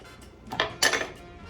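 Garlic rice with a teaspoon of vinegar being mixed in a pot: two quick bursts of a metal spoon scraping and clinking against the pot, fairly close and otherwise quiet.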